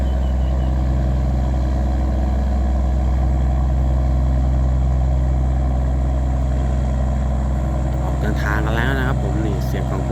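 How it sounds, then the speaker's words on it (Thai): A heavy tugboat engine rumbles low and constant nearby, with a brief voice over it near the end. "เสียงของเครื่องยนต์นะบอกเลยไม่ธรรมดา"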